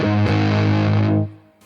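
An overdriven electric guitar through a Zander Circuitry American Geek pedal at setting 5, lower gain, plays one loud sustained chord that rings about a second and then decays, with nobody talking.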